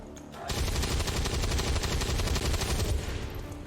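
Sustained automatic gunfire from a Warhammer-modded XCOM 2 battle, a dense, loud stream of rapid shots that bursts in after a brief quiet start and rattles on continuously to the end.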